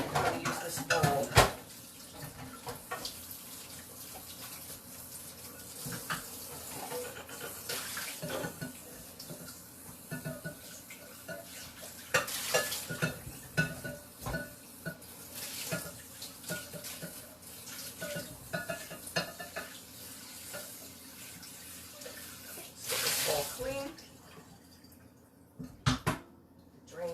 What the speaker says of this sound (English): Then I'm going to wash my strawberries real quick.